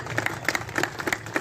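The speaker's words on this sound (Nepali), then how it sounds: "तालीको गरगराट कम नगरिदिने म तपाईँहरूलाई यहाँबाट विनम्र अनुरोध गर्दछौँ" Audience clapping at an award felicitation during a community football final event, a loose patter of hand claps from a modest crowd, fairly close and continuous for the whole moment.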